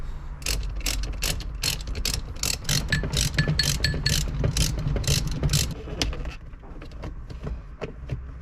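Rapid ratchet clicks from a wrench loosening bolts inside the shifter housing of an old Toyota 4x4 such as a 4Runner or Land Cruiser, a steady close burst of clicking that thins out toward the end.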